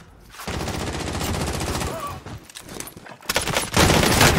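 Bursts of automatic gunfire from the video game Modern Warfare Warzone, loud and dense, with a brief lull before another heavy volley near the end, while players talk over it.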